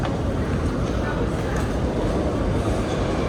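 A subway train arriving at Canal Street Station in New York, a steady loud rumble of wheels and motors filling the platform without letup.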